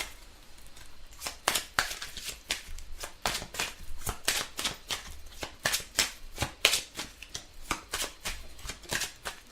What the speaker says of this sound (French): on va prendre une petite carte pour avoir un message et je prends celui qui est resté